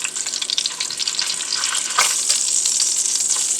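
Chicken pieces frying in hot grease, a loud, dense crackling sizzle close up, with rapid bursting pops that swell briefly and then settle into a steady roar, with no voices.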